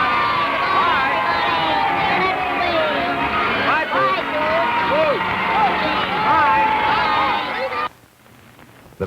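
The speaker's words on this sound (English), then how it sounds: "So let's all hear our rootin' tootin' cheer for Rootie." Children in a studio audience cheer and shout together for a TV kids' club show, a loud sustained crowd roar with excited high voices that cuts off abruptly near the end.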